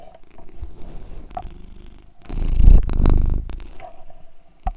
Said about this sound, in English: I'm gonna hold the mic up to the cat for a minute.